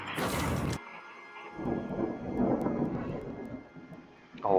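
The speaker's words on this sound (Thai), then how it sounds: "ฟ้าร้องหนักมากตอนนี้" Heavy thunder in The Outer Worlds, a loud burst followed by a long rolling rumble under steady rain, with a fresh crack starting at the end.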